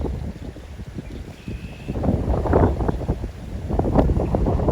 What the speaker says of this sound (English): I'm not going to complain about the wind. I'm going to enjoy the wind.